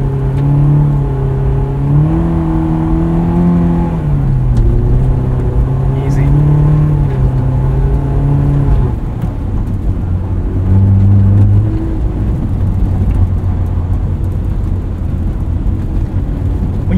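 A 2001 Honda S2000 accelerates up a snowy hill on all-season tires, its engine note droning steadily from inside the cabin and rising and falling in pitch through the gears, with a voice talking over it.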